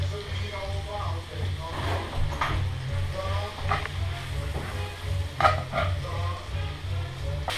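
Beef for stroganoff sizzles steadily in a hot pan, with a constant frying hiss, a low rumble underneath and occasional stirring and scraping clicks.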